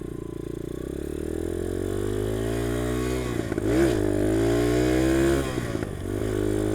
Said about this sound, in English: I'm starting to get a little better at rev matching.